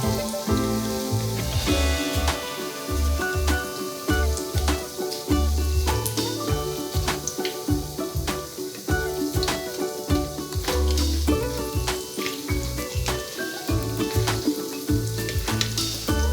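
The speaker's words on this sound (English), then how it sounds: "I'm just gonna fry them till they're nice and golden." Tempura-battered zucchini deep frying in a wok crackles and sizzles continuously and loudly, while tonal music plays underneath.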